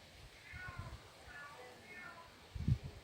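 An aunt imitating a cat, a person voicing three soft, drawn-out meows in a quiet room, fairly faint, followed by a brief low thump.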